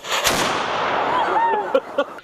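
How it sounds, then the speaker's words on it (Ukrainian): A cannon shot rings out at an outdoor Cossack festival camp and decays into a long rumbling echo, followed by a couple of short sharp sounds near the end. "закликали до столу гарматним пострілом"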